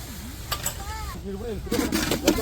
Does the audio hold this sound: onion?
yes